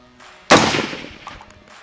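A single sharp UAR-15 rifle shot cracks out loudly after a quiet moment during sighting-in at a target, its report decaying over about a second.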